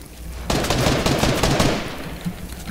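Rapid gunfire in the Fortnite battle royale video game, a loud burst of sharp reports lasting over a second, with a trailing echo and a single quieter shot after it.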